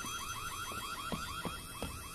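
A repeating electronic alarm in the horror video game White Day rings steadily and loudly, with rapid warbling tones cycling over a constant background hum and no talking.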